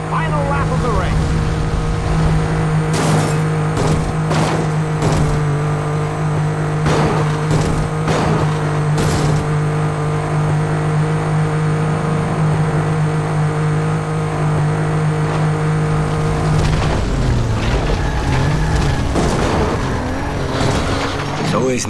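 Race cars on the final lap of the PS2 racing game Crash N Burn, a loud continuous engine drone with revving and shifting pitch throughout, and a voice speaking over it.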